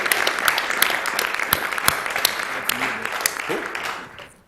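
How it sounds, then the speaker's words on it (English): Scattered clapping from a small group at a speedrunning charity marathon, with sharp individual claps, tapering off over a few seconds while voices murmur underneath. "Can we get another round of applause just for him"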